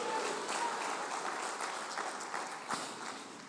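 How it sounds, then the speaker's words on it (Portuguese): A church congregation at an evening service claps steadily together, a dense wash of applause filling the room without pause. "Bata as palmas para o Senhor, diga aleluia."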